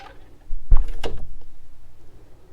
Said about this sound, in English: we'll shut that door behind us